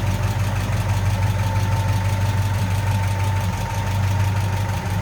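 A 1953 Ford F100 pickup's flathead engine idles smoothly, a steady, close, low rumble with an even pulse and no speech.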